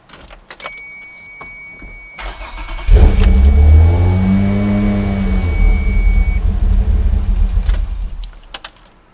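A Toyota 2GR V6 fitted in an MR2 cranks and fires, then runs with a rising, steady roar and slight unevenness at idle before shutting off, with some light clatter beforehand.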